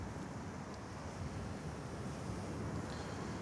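Sea waves wash steadily onto a beach, making a continuous broadband surf roar with wind noise on the microphone. The sound is fairly quiet and unbroken, and no voices are heard.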